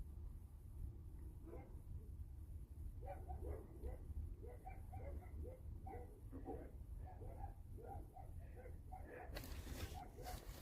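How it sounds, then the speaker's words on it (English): Several dogs bark and yip repeatedly outside an RV parked at a restaurant lot at night, a faint, distant, busy stream of barks under a low background hum. "A lot of dogs barking like crazy."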